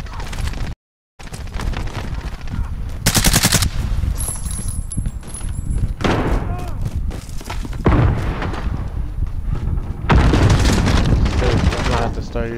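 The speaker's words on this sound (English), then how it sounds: "Fucking shotgun, honestly." Shotgun blasts and bursts of gunfire from Call of Duty crack out in repeated loud volleys, some heavy booming shots among rapid clusters, with a brief silent gap near the start and a voice talking over parts of it.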